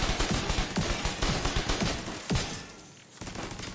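A deployable turret in The Division 2 firing steadily at a boss, continuous rapid gunfire bursts with sharp cracks, loud and dense throughout.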